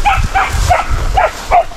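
A hunting dog chasing a squirrel gives a rapid series of about five sharp, excited barks and yips, close and loud, in an irregular rhythm.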